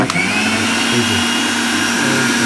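A Panasonic Super Mixer Grinder runs loud and steady, a high whirring motor drone that holds constant and close throughout with no speech.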